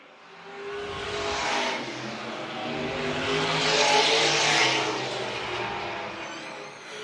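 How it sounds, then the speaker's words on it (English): Allison Legacy race cars roaring around the short oval at Dillon Motor Speedway in South Carolina, a loud continuous engine drone that swells as the pack passes close, then eases as they move away. "Great racing going on here at Dillon Motor Speedway."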